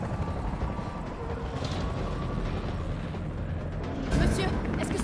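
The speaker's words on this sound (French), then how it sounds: "L'hélicoptère va vous conduire en lieu sûr." A helicopter in the Resident Evil 3 video game roars with a constant rotor wash and engine rumble, then a brief louder burst near the end.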